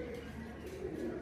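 A pigeon coos softly in a loft, low throaty calls faint against a murmuring background with a voice nearby.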